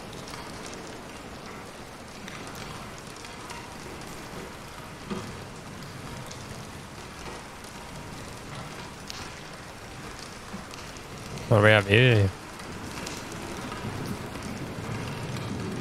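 Steady rain patters through the Bendy and the Dark Revival video game scene, a soft, continuous wash that holds for the whole stretch, with a brief spoken line near the end.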